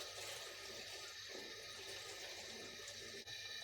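Water runs steadily from a tap while semolina (rava) is washed, a continuous close hiss and splash with no talking.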